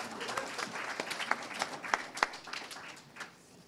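Scattered applause from a small audience at a library educators showcase, a few dozen distinct claps, some sharp and close, fading out after a few seconds in a quiet room.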